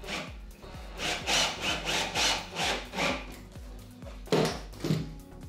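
A wooden board being screwed onto a wooden crossbar for a model railway base frame, with a steady run of rhythmic grinding, rasping strokes followed by two louder knocks near the end, close and alone.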